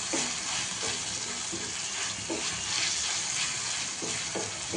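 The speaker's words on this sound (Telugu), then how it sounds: "ఇది మొత్తం ఇట్లా కొద్దిగా వేయించుకోవాలి" Ragi mixture sizzling and frying in a pan, a steady crackling hiss with periodic stirring scrapes, close and fairly quiet.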